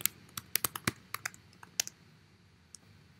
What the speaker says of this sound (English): I'm going to type in what I want it to say.